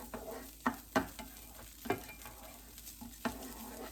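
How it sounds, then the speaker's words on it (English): Dry rice toasting in a pan for shrimp and lobster risotto, stirred now and then, giving a soft steady sizzle close by with a handful of sharp scraping clicks from the spoon and no talking. "Cooking up that rice a little bit."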